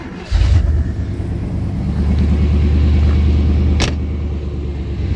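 A 1996 Chevrolet Silverado K1500 pickup with chopped straight pipe exhaust cranks and fires up, settling into a loud, deep, throbbing rumble with a brief rev blip near the end.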